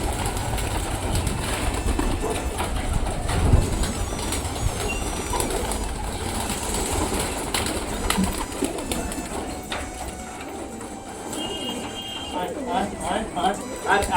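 Pigeons coo and flutter their wings against a steady background hum, while people talk intermittently nearby.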